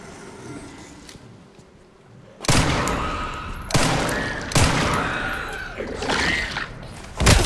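Gunshots ring out in the video game Resident Evil Requiem, several loud, sharp blasts spaced a second or so apart with echoing tails after a quiet start.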